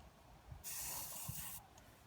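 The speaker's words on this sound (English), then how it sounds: "So with WD-40 or silicone spray, you're going to want to spray here" WD-40 or silicone spray from an aerosol can sprayed onto a stroller wheel axle in one short, quiet hiss of about one second, heard close with no talking.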